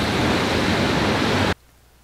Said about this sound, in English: there's so many waves here. They're so, like, huge when they come slamming into the rocks here.